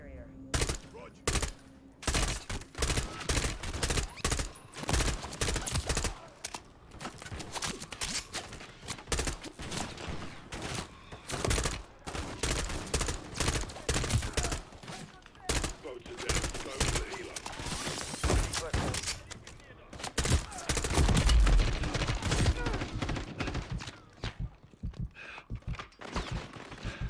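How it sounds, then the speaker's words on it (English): Dense, sustained automatic gunfire from the Call of Duty Modern Warfare 3 campaign, loud bursts and rapid shots in near-constant succession, with occasional voices beneath the shooting. "bullets are coming through"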